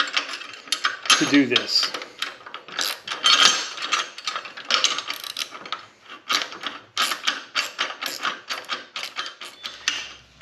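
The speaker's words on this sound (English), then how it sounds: "I'm going to put us together a 9/16 socket, ratchet, and then we're going to tighten them up" A ratchet with a 9/16 socket tightens bolts on a trailer jack for a log splitter, giving repeated bursts of rapid clicking at close range, with a brief spoken remark partway through.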